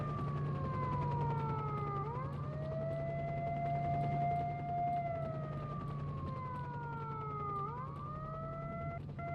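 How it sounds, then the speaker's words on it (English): An alarm siren in the video game STALKER: Shadow of Chernobyl wails continuously, its pitch sweeping down and back up in slow cycles over a steady low hum, loud and with no voices. "I thought you have to turn off the siren manually."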